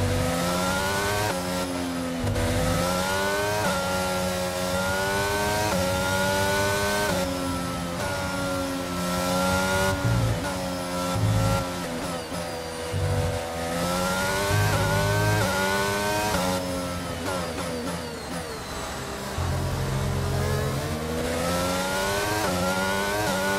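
Race car on a formation lap at Imola during a sprint round, its engine droning continuously with shifting pitch as it revs and shifts through gears, loud and close throughout.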